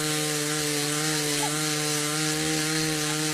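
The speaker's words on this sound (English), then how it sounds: "the chainsaw that can be heard in the background" A chainsaw drones steadily in the background, a continuous buzzing whine with stable harmonics that holds level for the whole stretch, with no talk over it.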